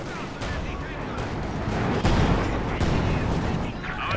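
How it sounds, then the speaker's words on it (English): Company of Heroes 2 match with a ZIS gun and StuG assault guns firing: repeated sharp gunshot cracks and booms over dense battle noise, with explosions scattered throughout. "ZIS getting some shots and might be able to get the kill here."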